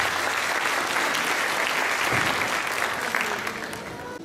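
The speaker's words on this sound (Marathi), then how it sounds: "नुपूरसाठी एका परत जोरात टाळ्या." An audience applauds a singer, a full burst of clapping that holds steady and then tapers slightly toward the end.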